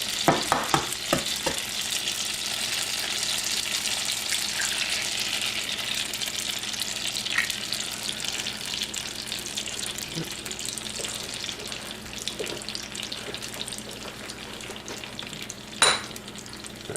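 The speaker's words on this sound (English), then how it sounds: "We're going to put some eggs right here in the middle." Eggs frying in a pan alongside tomatoes and bacon give a steady, close sizzle throughout, with a few clicks and scrapes of utensils.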